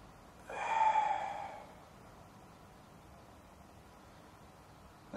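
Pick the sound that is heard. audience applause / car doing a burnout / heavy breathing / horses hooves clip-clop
heavy breathing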